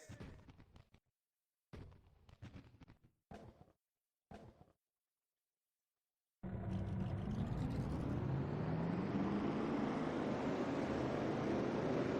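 Race car engines in a NASCAR-style racing video game fire up for a 400-mile race at Michigan, a loud sustained engine roar rising in pitch after several short bursts of sound and silence.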